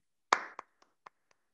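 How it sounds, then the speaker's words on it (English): Zoom meeting participants clapping on cue, heard as one sharp loud clap followed by a handful of fainter, spaced single claps that trail off, isolated against silence. "On the count of three, let's have everyone applaud."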